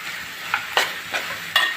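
A homemade masala paste goes into a pan for a prawn, drumstick and egg curry. Stirring, scraping clicks come in a few quick bursts over a faint background sizzle.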